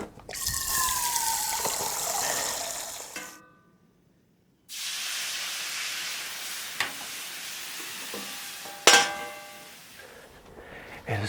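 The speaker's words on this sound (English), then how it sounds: "So I'm getting my water from the hose." On a freezing day outdoors, water gushes from a garden hose in a strong, hissing stream. It stops for about a second, then starts again, with a few small splashes and no talking.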